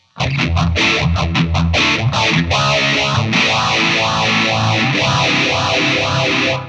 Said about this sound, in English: drag the phaser right after the distortion